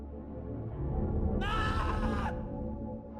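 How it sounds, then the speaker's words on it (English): James from the Silent Hill 2 video game lets out a harsh, strained scream as he lifts a chainsaw overhead, a loud cry lasting about a second over a low game ambience. "James can do an animation where he lifts the chainsaw above his head and screams"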